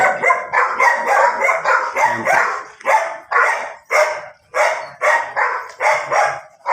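A dog barks near and loud in a steady series of about a dozen sharp, evenly spaced barks.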